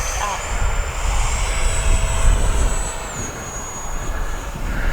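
A Freewing L-15 RC model jet flies past with a steady, high electric ducted-fan whine that rises and falls in pitch, fairly loud over outdoor wind rumble.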